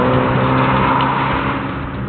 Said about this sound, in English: the JCW does have the sports exhaust, and it's much louder than the standard car